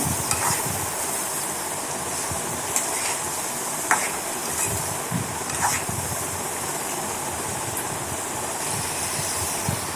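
Carrot fry stirred in a pan with salt and turmeric, a soft steady sizzle under repeated scraping and clinks of a spoon against the pan, close by with no talk.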